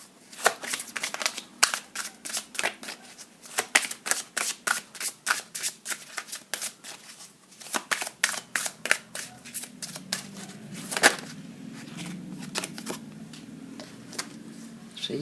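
Oracle cards are shuffled by hand in a long run of quick, crisp riffling snaps, close and steady, with a faint low murmur toward the end.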